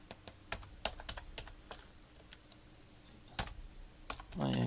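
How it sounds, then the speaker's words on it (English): Quick typing on a computer keyboard while entering a web link, a run of close, light key clicks at an uneven pace with a slightly louder burst near the end. "We're going to go ahead and type this in real quick."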